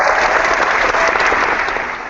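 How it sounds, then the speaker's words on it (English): Canned applause sound effect played during a football talk show segment, a steady wash of many clapping hands sustained loud and even throughout, tapering slightly at the end. "you could probably play the applause throughout the rest of the show"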